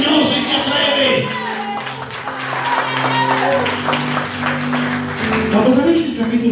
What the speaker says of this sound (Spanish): El aplauso al Señor si se atreve